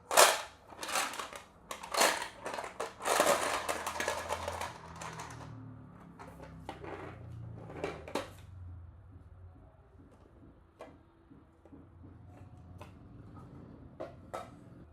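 A Boggle box used as a fortune ball is shaken, giving loud rattling clatters of small cubes in quick bursts, fading to sparse clicks and knocks.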